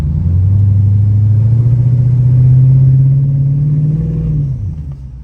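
Twin-turbo Ford Coyote V8 car on wastegate with a new transmission, a loud, close rev rising smoothly into a sustained drone for about four seconds before dropping off sharply.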